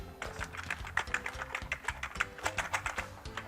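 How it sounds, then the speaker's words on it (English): Quick, uneven keystrokes clatter on a Commodore A1200 QWERTY keyboard, close and fairly quiet, in a brisk run of taps with no voices. "it should be a fully working QWERTY keyboard"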